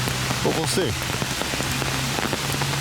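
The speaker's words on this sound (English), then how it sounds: "as you can probably see, it's quite rainy here today" Steady rain falling at Busch Gardens Williamsburg amusement park, a dense continuous patter on surfaces close by, with someone speaking briefly over it.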